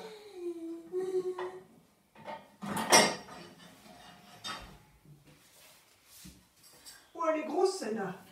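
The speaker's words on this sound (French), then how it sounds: "On va ranger les casseroles et les poêles." Pots, pans and a small saucepan are put away in a kitchen, with metallic clatter and clinks of cookware, a loud knock around the middle and scattered rattles, while a person talks over the handling.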